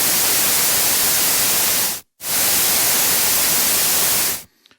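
Synthesized noise from an Audulus noise module: a loud, steady, full-band hiss that cuts out briefly, returns, and then stops.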